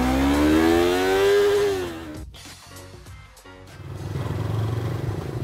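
A Yamaha MT-03 motorcycle engine revs up loudly, its pitch climbing then dropping, before settling into a rough, rattling idle close by.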